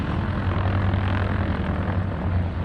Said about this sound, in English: He's got 375 horsepower in that airplane